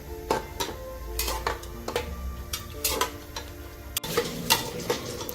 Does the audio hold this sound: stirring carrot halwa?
yes